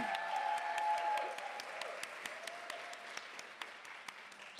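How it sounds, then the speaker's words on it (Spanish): Studio audience applauding for two guests on a Spanish-language talk podcast, a steady wash of clapping that thins out into scattered individual claps, fairly faint and heard alone. "Un aplauso, por favor."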